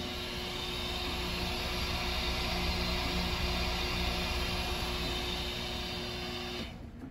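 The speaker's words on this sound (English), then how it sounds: "see the mixer in operation" A Walther Trowal waste treatment system's half-horsepower mixer runs on a 70-gallon mixing tank, giving a steady, loud mechanical drone that holds even throughout and eases off slightly at the very end.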